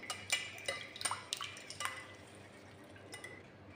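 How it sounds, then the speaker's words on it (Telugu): Oil and eggs being stirred together in a bowl for a chocolate cake batter, with a quiet run of light clinks and wet scraping taps, busier at first and thinning out toward the end. "కలబెట్టుకుందాము. నూనె, గుడ్లు,"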